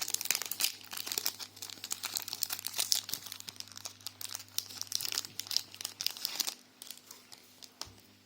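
Pokémon card packaging being torn open, close crinkling and tearing of the plastic wrapper in busy, irregular bursts that ease off toward the end, with no one talking.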